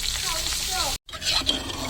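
Close sizzling and stirring of garlic ginger paste frying in hot cooking oil, a steady crackling hiss broken by a brief cut, then resuming, with someone speaking over it.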